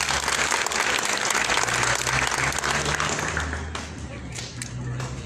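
Steady crowd applause at a swearing-in ceremony in San Andrés Huaxpaltepec, Oaxaca, loud and sustained for several seconds, with a voice talking over it and a low hum, tapering slightly toward the end.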